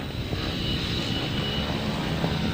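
Grasstrack racing motorcycles on the start line with engines revving, a loud, dense, continuous roar from several machines at once at an outdoor meeting, held steady without any speech over it.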